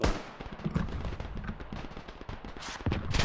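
Gunfire from the video game Beyond The Wire crackles in rapid, irregular bursts of close and distant shots, dense throughout with a sharper volley near the end.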